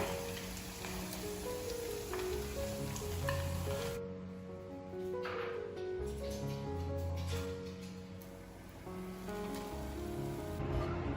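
Eggs deep-fry in hot oil in a wide pan, giving a continuous crackling, rain-like sizzle under background music.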